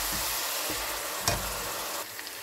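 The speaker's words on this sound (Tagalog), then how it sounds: "golden brown ang ating bawang at sibuyas" Garlic and onion sauté in a pan as a continuous close sizzle with a brief crackling burst midway, then settle to a slightly quieter hiss, with no talking.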